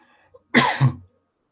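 A single short, harsh cough bursts out in a quiet room, close by, with a second rougher pulse trailing right after.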